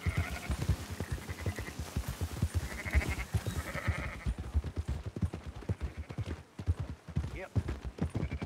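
Sheep bleat in a farm pen in the Red Dead Redemption 2 video game, mixed with dense hoof clatter and livestock movement, while a voice talks over the busy, steady scene.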